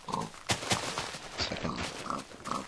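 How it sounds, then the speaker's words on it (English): Minecraft pigs near a lake grunting and oinking in irregular, fairly loud snorts that overlap one another, with no talk. "we've spawned near a lake, the looks of it, with a lot of pigs around here"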